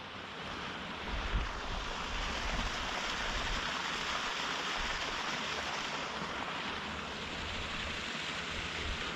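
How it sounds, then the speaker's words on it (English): A small mountain runoff waterway flows near a road on a high pass, a continuous rushing wash of water mixed with some wind buffeting, moderately faint and steady, with no talking. "Little waterway, little runoff."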